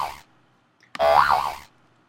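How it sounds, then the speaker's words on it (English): A cartoon hop boing effect: a short blip, then a bright springy twang with a wobbling pitch lasting under a second, loud and alone. "I want to play the cartoon hop, and that's a sound that sounds like this."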